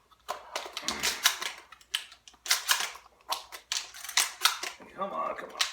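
Shotgun shells are speed-loaded into a shotgun during practice: a rapid run of sharp metallic clicks and clacks in uneven bursts, close and fairly loud, with brief pauses between groups.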